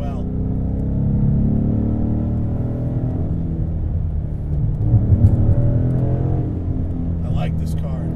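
A modified full-bolt-on 2015 Ford Mustang GT engine climbs and falls in pitch as it shifts through the gears while driving, a steady droning growl heard from inside the car.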